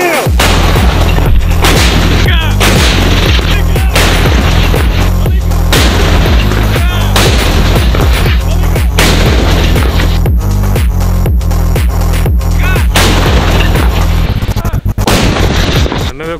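Artillery guns of airborne gunners fire in southern Ukraine, a long run of loud, heavy booms in a rapid rhythm, each with a deep throbbing low rumble, close by with no talk.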